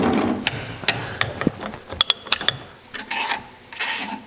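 A long 32mm socket on a Porsche 902 transmission's input shaft nut, sharp metallic clanks and ratchet clicks in irregular bursts, close and fairly loud, with no one talking.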